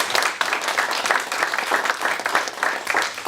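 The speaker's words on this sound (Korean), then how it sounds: "우리 하나님 앞에 우리 영광의 박수 한번 드립시다" A church congregation applauds together in steady, dense clapping that fills the room at full strength with no voices over it.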